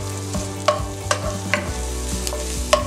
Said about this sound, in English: Let's saute the garlic.